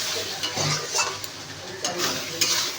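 A spoon stirs mutton curry with coriander and cumin powder in a pan, the scraping strokes coming in bursts over a soft sizzle, close and clear.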